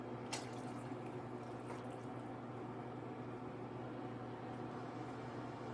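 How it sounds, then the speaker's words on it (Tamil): Water runs steadily into a pot for garlic rasam, a continuous splashing pour with a low hum underneath, fairly close and without speech. "நமக்கு எவ்வளவு ரசம் தேவையோ அதுக்கு தகுந்த அளவு நம்ம தண்ணி ஆட் பண்ணிக்கலாங்க."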